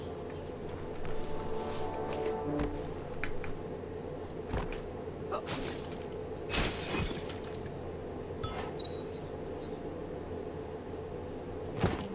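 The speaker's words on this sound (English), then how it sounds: "You shouldn't worry about smashing up the box." A box being smashed in the video game Biomutant, with several sharp breaking and shattering crashes scattered over a low rumbling game ambience, fairly quiet overall.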